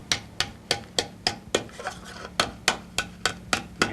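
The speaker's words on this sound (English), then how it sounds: "hammer that right down around there" A hammer beats a metal patch down at a sardine village museum, with about a dozen sharp, ringing metallic blows in a steady rhythm, close and loud, with no talking.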